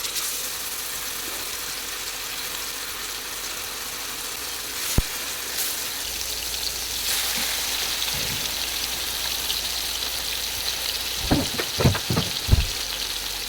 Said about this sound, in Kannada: ಇವಾಗ ನಾವಿಲ್ಲಿ ಮಸಾಲೆ ಹಾಕಿದ ಫಿಶನ್ನು ಇದಕ್ಕೆ ಹಾಕುವ